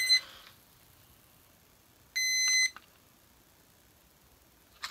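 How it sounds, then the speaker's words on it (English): Vulture System ice fishing tip-up alarm giving a short burst of steady electronic beeping, clear and close, alone with no talk, with a faint click at the start and end. "it still sets your alarm off even though that light is on"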